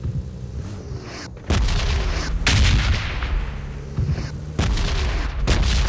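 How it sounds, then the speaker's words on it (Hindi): Bombs from a red-zone air strike landing in the PUBG Mobile game: heavy booming blasts rolling one after another, loud and close, with a sustained rumble between the hits. "जहाँ जाता ना वहीं पे बम गिरता"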